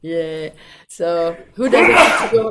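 A single sharp sneeze bursts out loudly near the end, following a stretch of conversational talk from people nearby.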